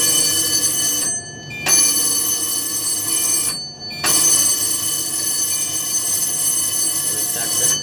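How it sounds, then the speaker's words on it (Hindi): Alarm bell inside a diesel locomotive cab during engine start-up, a loud continuous electric ringing that cuts out twice briefly before resuming steadily to the end. "अलार्म बजाएंगे।"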